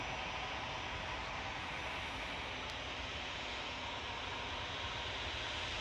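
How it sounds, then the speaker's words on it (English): Qatar Airways Boeing Dreamliner approaching to land at Manchester Airport, a steady broadband jet roar that stays loud and even throughout, with no voices. "See the Qatari Dreamliner is on the localizer now, coming down on the glide path."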